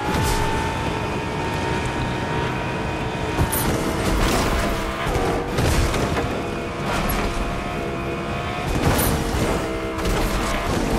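A car driven and damaged in the video game Fortnite Chapter 5 Season 4, with a loud steady engine roar and a few louder bumps and crashes throughout, with no talking.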